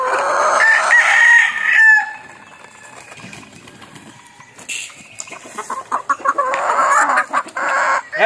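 A three-month-old backyard stag, a young rooster at feeding time, crows loudly and close, then keeps up scattered clucks and rustling among other birds.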